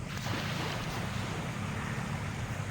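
Sea waves wash at a coastal area, a continuous broad roar mixed with wind buffeting the microphone, steady and fairly close with no speech.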